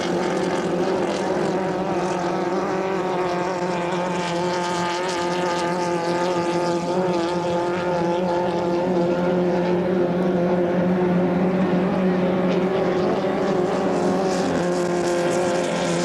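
2.5-litre hydroplane racing boats roar around the course at a St-Félicien race, a steady, loud, droning engine whine with layered harmonics that holds continuously throughout, no talk over it.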